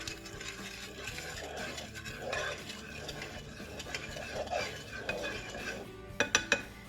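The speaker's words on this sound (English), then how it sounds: "So I'm actually just going to stir it around." Grilled chicken is stirred in a pan with a plastic utensil, quiet rhythmic scraping and shuffling against the pan, ending in a few quick sharp taps, close but faint, with no talking.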